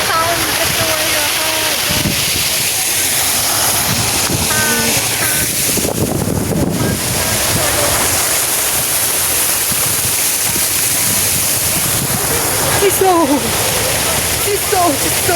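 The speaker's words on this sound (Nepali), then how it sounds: "पानीको साउन्ड कत्रो आइरह" Loud, continuous rush of water at a waterfall in Kathmandu fills the whole stretch, broad and steady, while people talk over it at several points.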